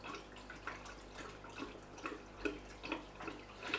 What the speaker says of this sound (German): Ich lasse mal ein bisschen laufen erstmal hier. Auf jeden Fall kommt Wasser raus schon mal.